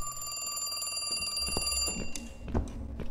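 A telephone rings in the horror video game The Cat Lady, a steady electronic trilling bell that cuts off partway through and leaves low ambient noise and a few thumps.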